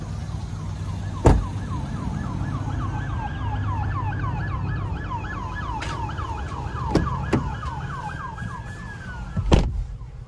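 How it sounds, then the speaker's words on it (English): A wailing police siren rises and falls repeatedly from a passing police car, heard from inside a quiet 2020 Cadillac XT4, with a few sharp clicks. "And those police sirens were coming."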